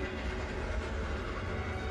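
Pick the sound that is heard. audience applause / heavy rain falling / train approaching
train approaching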